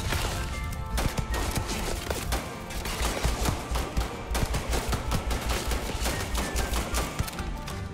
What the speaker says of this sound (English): there's more shooting down here